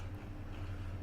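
A Class 465 electric train runs on the Chatham Main Line in Train Simulator 2016, a steady low rumble and drone with faint rattling, continuous and fairly quiet throughout.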